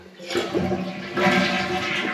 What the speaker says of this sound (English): And then next, you're gonna wanna flush the toilet.